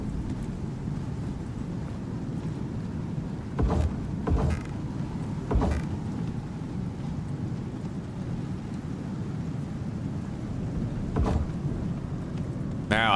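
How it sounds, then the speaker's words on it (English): Thunderstorm in the survival game Icarus: a continuous low rumble of rain and wind with several sharp thunder cracks, a cluster early and another near the end. "Well, we have a thunderstorm, so theoretically we should be getting water now."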